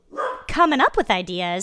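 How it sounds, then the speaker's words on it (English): A pet dog gives a few sharp barks and yips close by, mixed in with people talking. "That's my dog barking."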